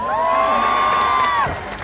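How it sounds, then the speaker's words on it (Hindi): A large crowd at a PW Aagaz event in Srinagar cheers and whistles loudly as a Jammu and Kashmir topper student is called on stage, with long whoops over dense clapping and shouting. "एक बार जोरदार तालियां यार।"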